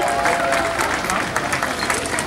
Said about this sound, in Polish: proszę jeszcze raz ogromnie brawa